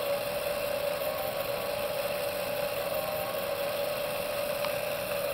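The motor assembly of a motorized fire tornado rig running steadily, a constant mid-pitched hum with a whining tone and slight vibration, close and even throughout with no talk.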